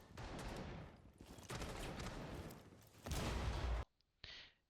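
An impact grenade explodes in Rainbow Six Siege amid dense rattling gunfire. The noise comes in long, loud bursts, then one heavy final blast cuts off abruptly and is followed by a brief quieter burst.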